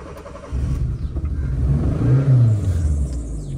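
A car engine cranks and catches, then revs up in a low, steady rumble that swells over a few seconds, close by, with no talk.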